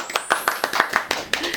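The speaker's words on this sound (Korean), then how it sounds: "박수!" A small group claps to welcome a returning guest, a brief round of quick, close hand claps in an indoor studio-like setting.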